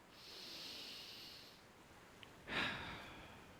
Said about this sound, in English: deep, deep, deep breath